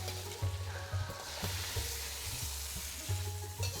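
Marinated lamb pieces fry in hot oil in a wok, giving a steady crackling sizzle with recurring bubbling surges and low thumps as the meat shifts and cooks.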